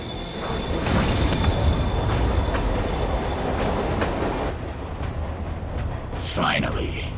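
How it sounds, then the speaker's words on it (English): A train in Marvel's Spider-Man video game pulls away, a loud continuous rumble of rolling wheels with squealing metal and clanks that thins out toward the end, where a voice briefly speaks. "Train moving. Lee's getting away."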